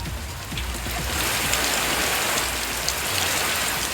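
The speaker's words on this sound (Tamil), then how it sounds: "இந்த நிலையில் எந்த ஒரு அறிகுறியும் இல்லாமல் திடீரென மிதமான மழை பெய்தது." Sudden moderate rain in Erode falls in a dense, steady hiss with scattered drops spattering on surfaces, close and fairly loud throughout, with no voices.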